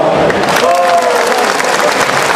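Audience applause from a crowd at an Indonesian speech event, steady and fairly loud clapping filling the whole short stretch with no talk over it.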